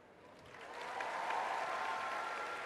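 The audience at a televised presidential debate breaks into enthusiastic applause that swells over the first second and then holds as a full, steady wash of clapping.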